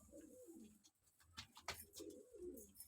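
Village pigeons coo close by, soft throaty rolling calls repeating in overlapping bursts, with a few faint rustles and no talk.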